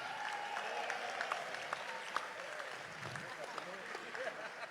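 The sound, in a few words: audience applause for city officials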